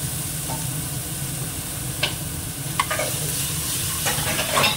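Garlic paste fries in a hot pan under a constant close sizzle, with a few sharp spatula scrapes and knocks as it is stirred; no one speaks.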